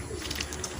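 Racing pigeons coo faintly in a loft, soft low murmurs repeating throughout under steady background noise.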